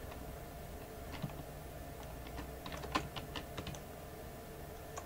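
Sparse clicks of keys pressed on a computer keyboard, with a few sharper taps standing out near the middle against a quiet, steady room hum.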